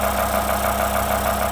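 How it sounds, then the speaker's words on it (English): A BMW E60 M5 engine idles steadily with gear-driven Vanos pump noise, a loud continuous hum and whir, close up and alone. "most of that noise comes from the Vanos system itself"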